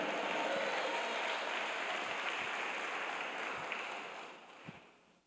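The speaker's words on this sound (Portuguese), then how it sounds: "aplauda o Senhor" A congregation at a Baptist communion service claps, producing a soft, continuous rush of many hands that stays even for several seconds and then fades away, with a few low thumps near the end.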